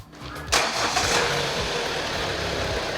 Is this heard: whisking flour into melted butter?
no